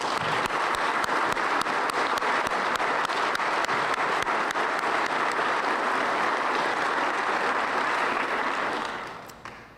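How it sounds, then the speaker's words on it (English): At a law enforcement training graduation, a crowd gives a huge, loud round of sustained clapping that fills the hall and then begins to fade near the end. "So I would ask that we all give them a huge round of applause."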